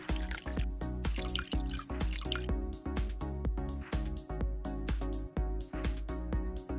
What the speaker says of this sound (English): Pour in 40 milliliters of gin and 100 milliliters of tonic.